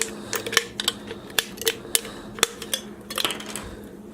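A knife cuts the top out of an aluminum can for a homemade can stove: a run of sharp metallic clicks and scrapes, irregular and close, bunched more densely near the end.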